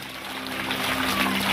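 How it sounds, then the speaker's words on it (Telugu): Loud, dense applause from a crowd of children fills a Children's Day celebration at Ushodaya School in Kanchikacherla, NTR district, a steady wash of clapping throughout with a faint low hum beneath and no talking. "గట్టిగా క్లాప్స్ కొట్టండి"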